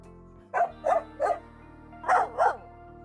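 A dog barks five times, three sharp barks close together, then a short pause and two more, loud and near.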